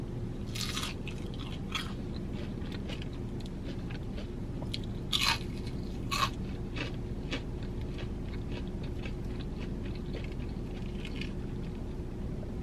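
Someone bites into and chews a crunchy Culver's onion ring with signature sauce, giving a few close, crisp crunches over a steady background hum, with no talking.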